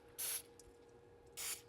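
Two short hissing bursts of oil sprayed from a can onto a BMW air intake filter, close and clear over quiet background hum.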